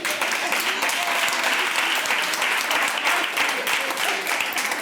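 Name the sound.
audience applause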